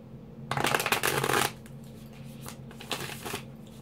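Tarot cards shuffled by hand before a reading: a loud dense riffle for about a second, then quieter intermittent card flicks and taps, with no talking.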